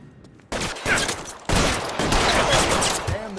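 Sustained bursts of gunfire in L.A. Noire, loud and close, with rapid overlapping shots beginning after a brief quieter lead-in and continuing through to the end.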